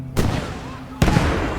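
Two sharp gunshots from the World War II game Gates of Hell go off about a second apart, each a loud close crack with a short rumbling tail over faint background battle noise.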